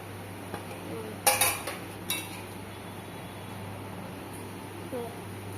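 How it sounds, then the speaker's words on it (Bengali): Plates clink against one another as food is covered at a biryani meal on a rainy day. A few light, separate clinks sound over a steady background hum. "সব তো থালা দিয়ে তো সব ঢেকে রাখছো"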